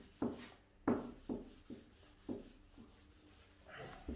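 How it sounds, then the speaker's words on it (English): Hand rubbing Danish oil into poplar wood, a series of soft, regular rubbing strokes on the board, close and quiet with no talk. "I'm just going to rub a few coats of Danish oil on here."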